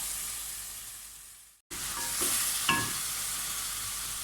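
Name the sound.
chicken and tomatoes frying in a pan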